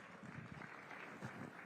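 An audience at the Rising Bharat event applauding as actor and MP Kangana Ranaut is welcomed on stage, a faint, steady wash of many hands clapping from a distance.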